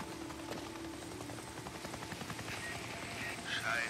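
Helicopter in the video game Days Gone, a steady rotor chop throbbing quietly at mid distance beneath game effects and a voice speaking.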